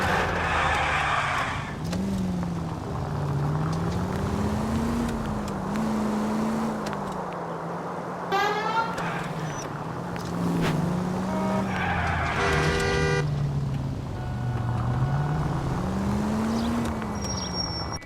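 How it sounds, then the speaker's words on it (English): Car engine revving and pulling out of a driveway, wavering engine note with tire sounds and a passing-vehicle whoosh, over a busy backdrop of music and effects. "That's the car, Cole. Just pulling out of the drive."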